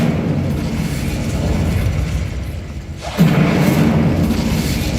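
The Incendio fire spell is cast in Hogwarts Legacy, a sudden low whooshing burst that rises out of a steady background rumble and then holds.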